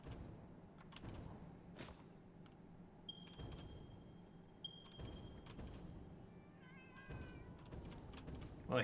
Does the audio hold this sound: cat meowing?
yes